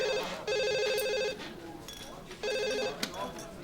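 A telephone rings in two bursts of trilling electronic bells, separated by a pause with faint voices and room noise.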